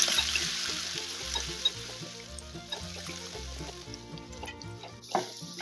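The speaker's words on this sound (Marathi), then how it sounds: "त्यात घालू आता हे आपण लाल मिरच्या, त्यात हा हिरव्या मिरचीचा आणि आलं लसणाचा ठेचा छान परतू देऊ." Red chilies with a crushed green chili, ginger and garlic thecha sautéing in a pan, a steady close sizzle with scraping stirs and small bubbling crackles throughout.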